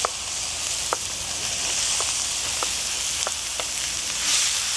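Chopped onions for paella sizzle steadily in a hot pan, a continuous bright hiss with a few small pops and spatters, close and fairly loud with no talking.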